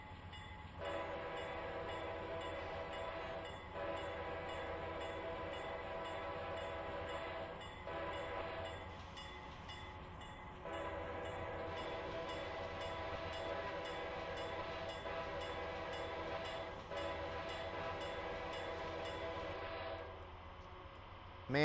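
A Dash 8 locomotive horn in Train Simulator 2021 on the Pacific Surfliner near San Diego sounds in several long sustained blasts with short breaks, over a faint rolling rail rumble.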